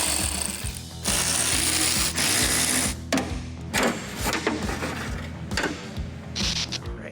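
Ratchet wrench with Torx bits and sockets clicking steadily while removing tailgate hardware on a Ram 1500 pickup, loud and close, in repeated bursts with brief pauses and no talking.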